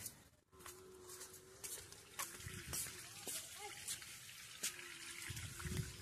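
Water from a motor pump pours and splashes into a container, a close, continuous trickling flow with scattered bright spatters, while a faint steady hum runs underneath.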